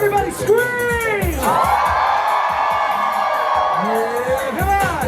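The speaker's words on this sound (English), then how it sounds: "Everybody scream." A crowd at a performance during Disneyland After Dark 90's Nite screams and cheers loudly, with high whoops and yells swelling into a sustained roar, close and energetic.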